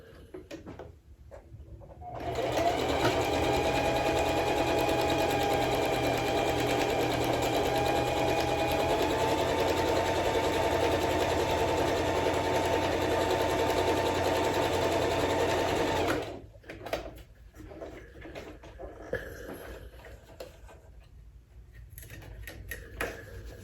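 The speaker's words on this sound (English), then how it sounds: "I'll take this to the sewing machine and I'll top stitch right along that fold" A sewing machine top stitches fabric steadily for about fourteen seconds, a fast even mechanical whir, followed by quieter handling noises once it stops.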